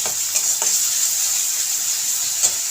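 Spice paste for hilsa fish curry fries with a spoonful of water, giving a loud, continuous close sizzle with a few soft stirring knocks underneath.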